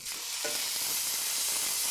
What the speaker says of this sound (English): You ready for this beautiful sizzle?